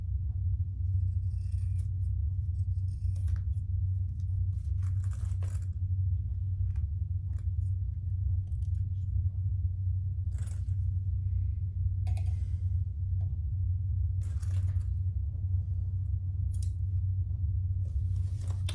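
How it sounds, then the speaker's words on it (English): Sharp scissors snip through cork wallet fabric, giving scattered crisp cuts and clicks over a steady low hum, some in quick pairs, others spaced apart, close and fairly quiet. "I'm gonna have to use some sharp scissors."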